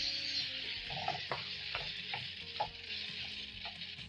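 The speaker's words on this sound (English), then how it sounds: "Toss all the spices until fully combined to the liver" Liver fries in a pan with spices, seasoning and stock cubes, a close, steady sizzle broken by soft rhythmic scrapes and taps of a utensil tossing the pieces, with no voices.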